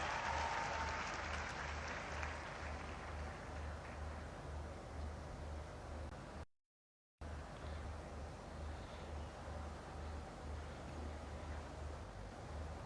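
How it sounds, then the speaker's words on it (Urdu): An audience applauds at a university laptop scheme ceremony in a large hall. The clapping is broad and continuous, heard from a distance, and cuts out for a moment partway through. "ایک بار پھر سے زوردار تالیاں."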